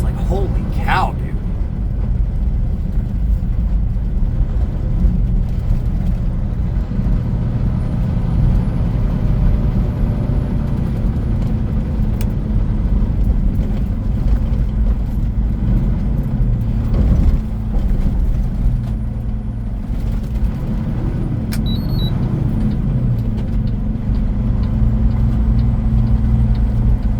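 Cars on a rural back road, heard as a steady low engine and road rumble from inside a vehicle, with someone talking over it throughout.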